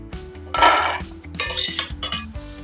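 Roasted peanuts tipped from a pan onto a plate, with close metallic scrapes and clinks of a utensil against cookware in a few short bursts and a rattling pour of the nuts.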